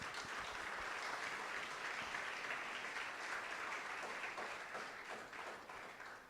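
A church congregation applauds together during a Spanish-language sermon, a dense steady wash of many hands clapping that carries through the whole stretch and tapers slightly toward the end, with no talking.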